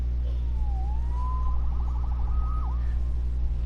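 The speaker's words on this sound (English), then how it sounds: "Saved by the siren" A police siren in a Spider-Man game wails with a rising and falling tone, then a quick warbling yelp, faint and some distance off over a steady low rumble.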